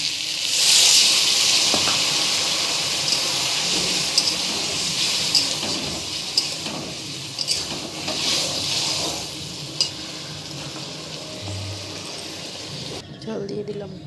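Water poured over frying eggplant and cauliflower in a pan sets off a loud, close sizzle and steamy hiss with stirring scrapes, while a voice talks over it.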